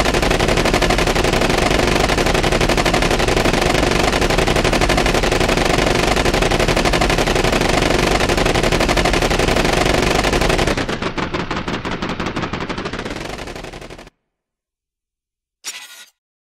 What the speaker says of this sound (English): shit glitched out and started layering and looping my gun sounds ad nauseum